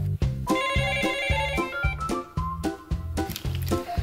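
A telephone rings repeatedly in a steady electronic pattern at a market delivery-service call center, the tones clear and close with no talking.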